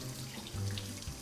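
Cold water runs from a kitchen tap over a stainless steel spoon in a steady close splashing stream with a few shifting gurgles.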